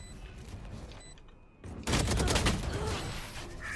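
Gunfire in the tactical shooter Valorant breaks out partway through as a loud, dense burst of rapid shots following quieter game ambience, up close.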